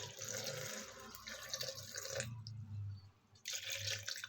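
Water poured into a mixer jar for a milkshake, a quiet splashing trickle heard up close in short bursts with small pauses.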